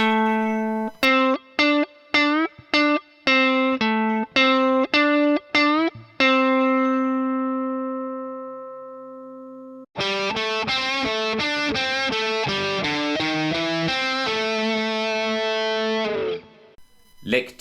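Distorted electric guitar plays a minor pentatonic lick, first as a run of separate picked notes, then one sustained note, then a faster flowing phrase that rings out clearly and alone.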